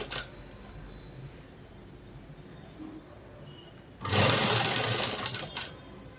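Sewing machine stitching a blouse: quiet handling noise and faint chirps at first, then a loud, close whirring burst of rapid stitching for about two seconds before it stops.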